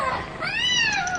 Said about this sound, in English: The cat! Look out for the cat!